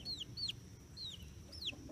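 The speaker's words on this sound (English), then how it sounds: "check out that little rooster back there" A young rooster kept with quail gives four short, high clucking chirps, faint and a little distant over a low background hum.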